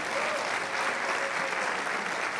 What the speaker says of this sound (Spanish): Un aplauso fuerte, hermano.